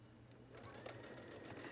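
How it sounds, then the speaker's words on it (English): A sewing machine runs steadily, stitching around the collar of a classic tunic, with a continuous close mechanical whir and rapid needle clatter and no talking. "we'll stitch around the collar"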